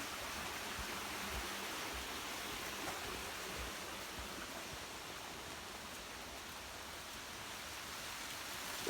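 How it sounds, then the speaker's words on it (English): Rain falls on trees in the woods as a soft, even hiss of drops on leaves, steady and quiet for the whole stretch, with no voices. "the water's really picking up, so kind of glad I'm in the trees, because that way I'm not getting rained on"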